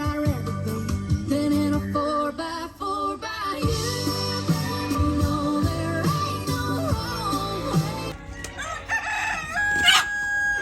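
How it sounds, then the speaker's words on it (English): Several roosters crowing and squawking nearby in a noisy scuffle, long overlapping cock-a-doodle-doo calls and harsh clucks that rise to a loud shriek near the end, with no speech. "I think there's some roosters dying over there. It sounds like there's a fight going on."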